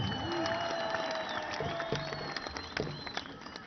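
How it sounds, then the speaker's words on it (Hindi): Crowd applause and cheering at a Grand Alliance political rally in Quetta, Balochistan, a steady dense clapping wash from a large outdoor audience with scattered shouts and a faint whistle, sustained throughout. "एक बड़ी ताली तो बनती है ना"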